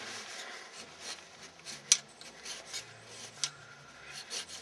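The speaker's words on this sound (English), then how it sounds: "Just scrape all the old gook off as best as you can" A scraper tool rasps old gasket material off the back cover of a Ford F150 9.75 rear axle, quiet irregular scraping strokes with a couple of sharper clicks, close and alone.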